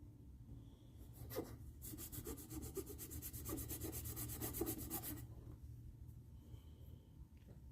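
Rapid, rasping strokes of a file taking the burr off a ukulele kit part, a steady burst of scraping in the middle with quieter handling before and after.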